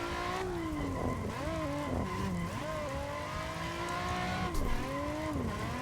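A Nissan 350Z drifts around a track, its engine holding a high, wavering note that rises and dips through the slides while tires squeal steadily underneath, loud and continuous throughout.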